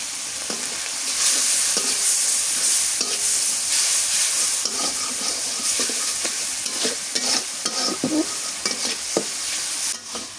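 Ground cumin and curry leaf powder stir-fried in hot oil, a steady loud sizzle with repeated scraping and stirring strokes throughout and no talking.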